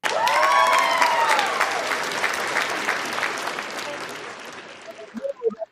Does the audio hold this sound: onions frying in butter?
no